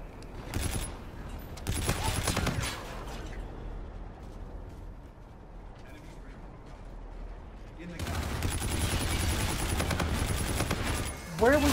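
Video game gunfire in two loud bursts of rapid automatic shots at the start and again from the middle to the end, separated by a quieter stretch of ambient noise.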